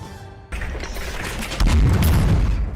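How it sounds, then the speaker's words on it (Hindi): Loud booming explosions from an Indian Army exercise at Pokhran roll and echo, building into a sustained heavy rumble with sharp cracks layered on top. "हवा में गूंजते धमाके"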